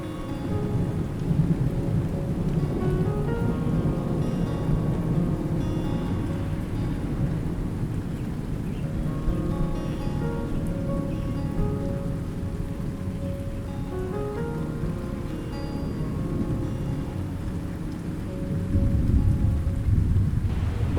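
Steady heavy rain pours continuously in the mountains near Ghangaria, with a low rumble of thunder underneath, a dense even wash of sound throughout.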